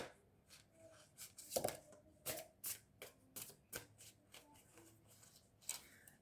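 Tarot cards are shuffled and handled by hand, a series of soft, irregular riffles and taps, some sharper snaps among them, faint and close in a quiet room.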